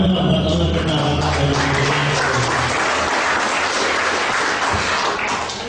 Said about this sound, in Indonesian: Tepuk tangan Pak buat orang pertama Pak.